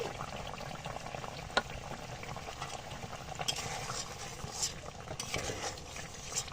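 A spoon stirs fish curry in a pot after roasted cumin powder goes in, making steady scraping and swishing with a few sharp clinks against the metal, close and moderately quiet, with no one talking.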